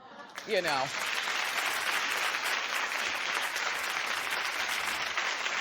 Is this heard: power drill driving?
no